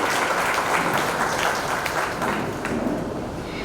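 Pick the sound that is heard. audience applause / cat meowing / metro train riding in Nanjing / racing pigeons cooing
audience applause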